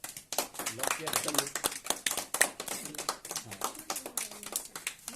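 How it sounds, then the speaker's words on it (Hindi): Quiz contest audience at a coaching centre clapping in quick uneven bursts, fairly faint, with people talking over and between the claps. "चलिए आप लोग ताली मारिए।"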